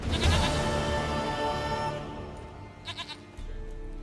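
A goat in The Witcher 3 game world lets out a loud, wavering bleat up close, followed by a few shorter, fainter bleats a moment later.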